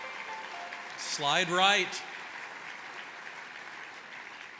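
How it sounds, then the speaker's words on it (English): At a State of the City address in 2016, a large audience gives steady, moderate applause for the MAPS 3 trail. A short spoken phrase cuts through the clapping near the start. "How about a round of applause for the MAPS 3 trail?"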